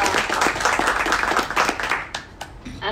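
An audience at a Vietnamese investment and finance talk bursts into applause, a dense wash of clapping that thins into a few scattered claps near the end.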